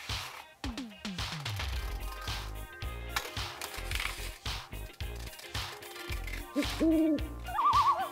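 An owl hoots several times amid rustling and scattered background noise, with brief tonal calls near the end.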